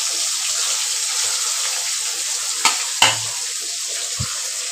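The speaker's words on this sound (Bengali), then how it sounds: "মাছগুলো ভাজা হচ্ছে।" Small fish sizzle in hot oil with a constant bright hiss, broken by a few sharp clatters and knocks of cookware, and no one speaks.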